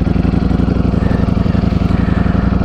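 A Ducati Streetfighter V4 S with a full Akrapovic titanium exhaust idles close by, its engine a loud, even, low throbbing pulse that runs throughout.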